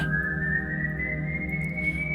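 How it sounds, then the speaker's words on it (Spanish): A sustained, slowly rising whistled tone with a steady, haunting quality, heard alone over a low hum, evoking the Silbón legend. "el silbido seguía marcando el ritmo, lento, paciente, impalpable"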